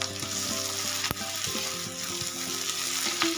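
Spices such as turmeric, coriander and chili frying in a pan give a loud, continuous sizzle, broken by a few sharp clinks and stirring sounds, with no talking.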